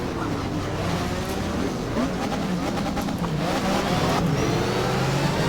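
A Porsche race car engine in a racing video game roars continuously, revving and shifting as the car accelerates, loud and close throughout with other cars faintly around it.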